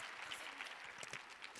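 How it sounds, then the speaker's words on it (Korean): A seated crowd at a forum talk show gives a brief burst of applause, soft and distant, a short even patter of many hands. "저희도 다 같이 뜨거운 박수로 이제 보내드리도록 하겠습니다"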